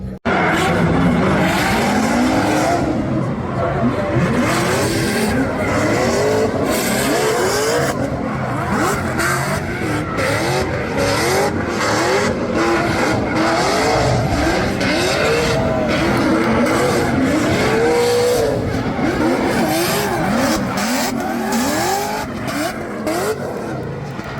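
Formula Drift cars battling in competition, engines screaming and revving hard while tires squeal and skid almost nonstop, loud and close, with faint background voices.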